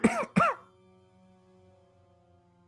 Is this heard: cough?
yes